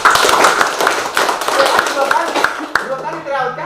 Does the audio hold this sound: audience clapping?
yes